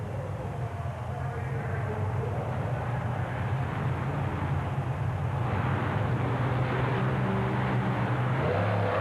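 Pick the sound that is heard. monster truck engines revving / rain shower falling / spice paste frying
monster truck engines revving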